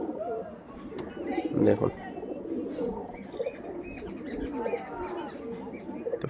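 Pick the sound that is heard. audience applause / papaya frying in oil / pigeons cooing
pigeons cooing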